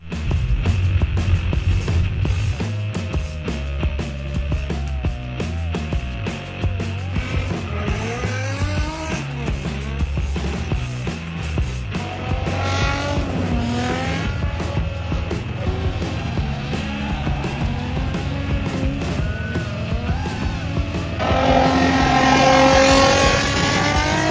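Loud drift car engine, fitted with nitrous, revving and bouncing off the limiter at a drift battle, with tire squeal throughout and a burst of louder screeching near the end.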